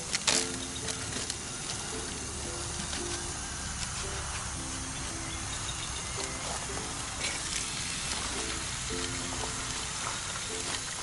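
Chopped Italian sausage browns in hot oil on a campsite stove, giving a steady, close sizzle and crackle that runs continuously throughout with no talking.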